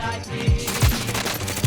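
Four punchy gunshots in Warzone Pacific fire in a quick, slightly uneven series, loud and close over a steady bed of game ambience.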